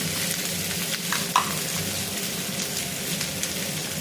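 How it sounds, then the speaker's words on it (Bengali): Green chillies and tomato stirred and fried with potatoes in a hot pan: a steady, close sizzle with soft scraping of the stirring, one brief louder clink near the middle, no talking. "একটু নেড়ে ছেড়ে কাঁচা লঙ্কা টমেটো দিয়ে দেব, আর দেবো নুন"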